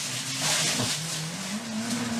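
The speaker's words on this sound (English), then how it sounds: "with the wet conditions, watch it just lock the rears" TCR touring race car on a wet track locking its rear wheels, a continuous engine drone with a wavering tone and some skid-like scrub, steady and fairly loud without speech.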